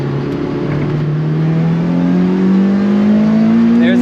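A 2005 Lotus Elise engine surges under acceleration, its drone climbing steadily in pitch, loud and close throughout with no voices.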